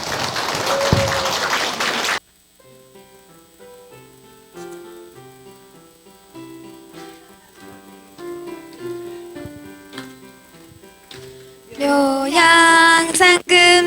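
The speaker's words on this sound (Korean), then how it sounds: "뜨거운 박수 부탁드립니다" An audience at a Buddhist dharma ceremony bursts into dense applause for about two seconds. It cuts off abruptly and soft music follows.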